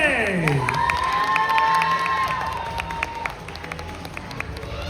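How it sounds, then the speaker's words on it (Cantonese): A crowd at a K-pop cover dance festival in Hong Kong cheers and claps for the Pixel HK dance group, with loud, sustained shouting, whistling tones and scattered applause filling a large hall. "將你哋最熱烈嘅掌聲再次送俾 Pixel HK"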